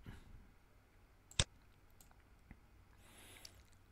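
A single sharp mouse click selecting a railing in Revit 2023 architecture software, heard once and close amid quiet room tone.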